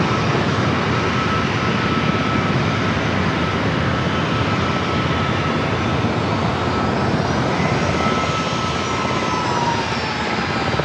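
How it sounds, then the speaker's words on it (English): A Southwest airliner arrives at San Diego airport, its engine roar steady and loud for the whole stretch, with a slowly shifting high whine above the broad rumble and no voices. "I got a Southwest flight up next for arrival"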